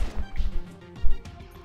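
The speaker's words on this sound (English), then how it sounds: "Keep shooting at me." Game gunfire in Enter the Gungeon: a quick run of punchy shots and impacts, with one heavier hit near the end, loud and close over a busy game soundtrack.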